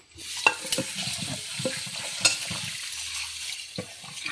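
Sweet potatoes are washed by hand in water, with sloshing, rubbing and knocking sounds and a few sharper clacks over a constant wet swish, close up and with no talk.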